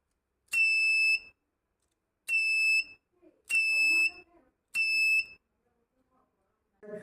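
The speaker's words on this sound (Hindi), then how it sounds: "यहाँ पर जो अलार्म है ये यहाँ पर ऑन हो जाता है" A transistor-based infrared sensor circuit sounds its alarm in four loud, piercing electronic beeps, each lasting under a second with short gaps between them, followed by faint handling noises.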